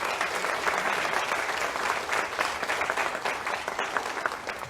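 A room of people claps steadily at an Iowa Women's Hall of Fame ceremony in a playhouse, honoring the staff. The applause is dense and sustained, fairly even in loudness and heard from a moderate distance without talk.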